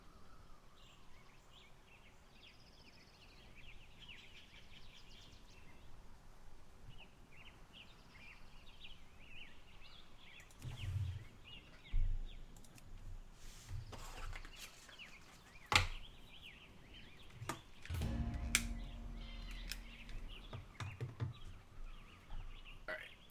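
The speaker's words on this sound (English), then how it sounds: "You guys listen to the birds?" Wild birds sing faintly on an island, with scattered high chirps and calls drifting over a quiet outdoor background, joined by a few sharp knocks and low thumps in the second half.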